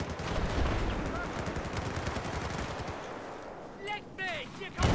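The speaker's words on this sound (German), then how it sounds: "Oh, ein paar Leute schießen." Several shooters fire in Battlefield 4, dense rapid gunfire from a few weapons overlapping in a continuous rattle that thins out near the end, with a voice speaking briefly.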